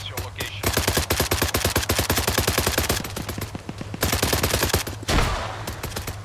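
Rapid machine-gun bursts rattle in an Arma firefight, sharp evenly spaced shots in several long strings broken by short pauses, loud and close, with occasional voices under the shooting.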